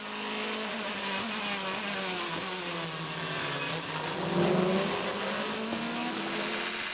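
WEC endurance race cars, including a Ferrari and Audis, race around Circuit of the Americas during the 6 Hours event, their engines droning steadily at a distance with rising and falling pitch as they pass.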